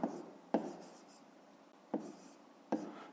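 Pen strokes on paper while working a fifth-grade maths exercise, a few short scratchy bursts at a steady pace, close and quiet, with soft scribbling between them.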